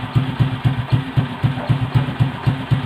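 A motorcycle engine runs during warm-up with a steady, even idle. Its low thumping pulses come at a regular beat, loud and close.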